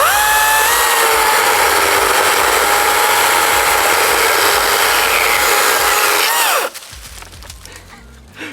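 An EGO 16-inch brushless 56-volt battery chainsaw bites steadily through hardwood, a loud, continuous whining buzz that holds for several seconds, then cuts off abruptly into quieter wood creaks and taps.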